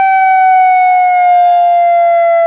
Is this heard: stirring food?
no